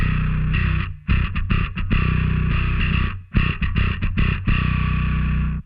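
A loud, gritty bass guitar riff blends a clean tone and a distorted tone, mixing a deep solid low end with a buzzing distorted edge, notes sustained and chopped in a steady groove.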